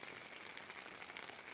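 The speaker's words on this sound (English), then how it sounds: "it's raining. Quite heavily actually" Heavy rain falls at night in Torrevieja, a steady, soft hiss of drops spattering on surfaces, continuous and fairly faint throughout with no voices.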